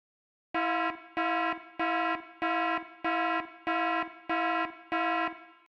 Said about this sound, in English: You can also stop the alarm of the main control panel from NHE CONNECT.